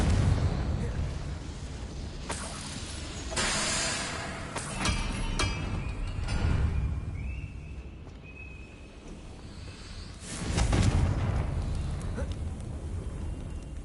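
Confringo fire spell explosions from Hogwarts Legacy, several broad booming bursts rising and fading over a rumbling game soundscape.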